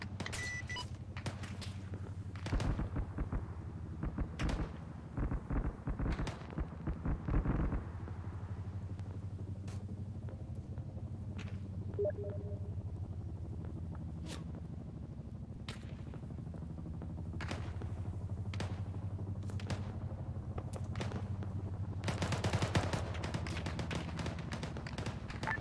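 Gunfire and artillery in a military combat game, with rapid sharp gunshot bursts and thuds over a constant low engine drone, some shots near and others farther off.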